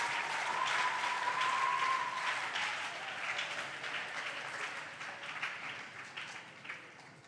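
Audience clapping at a junior science and maths quiz national contest quarter-final, a sustained round of many hands that starts loud and gradually thins and fades, with no voices over it.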